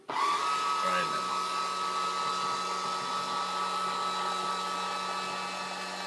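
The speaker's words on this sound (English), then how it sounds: "suck the speed brake up" An electric actuator motor retracts an aircraft speed brake with a steady, loud whirring drone that starts abruptly and holds an even pitch for several seconds, with a brief rising whine at the start.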